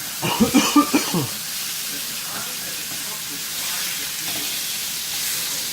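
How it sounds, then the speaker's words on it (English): Pork chops sizzling in a pan while being flipped, a steady close frying hiss running throughout after a few brief clattery handling sounds at the start. "So I flip the chops, they're nice and golden brown."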